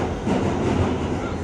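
An R211T subway train runs along the tracks, a steady, loud, deep rumble with a rhythmic clatter of wheels, heard from inside the car.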